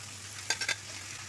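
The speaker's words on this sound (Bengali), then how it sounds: "একটা ভাজা ভাজা হয়ে গেছে, এখন চিচিঙ্গাগুলো দিয়ে দিচ্ছি" Snake gourd stir-fried in mustard oil, a soft steady sizzle broken by three quick stirring scrapes near the middle, close and fairly quiet.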